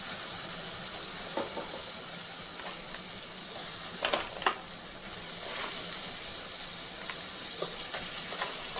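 Sea crab pieces cooking in hot oil with masala, a soft continuous sizzle and hiss with a few sharper crackles and stirring clicks near the middle, fairly quiet and close, no talk.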